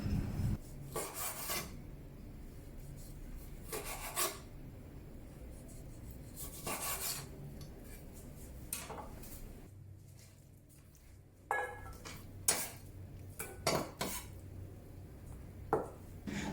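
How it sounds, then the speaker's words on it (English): A knife slices pork tenderloin into thin pieces on a cutting board, with a series of short, crisp cutting and scraping strokes at an uneven pace, close by and with no talking. "Get a piece of pork, preferably tenderloin, and cut it into thin slices."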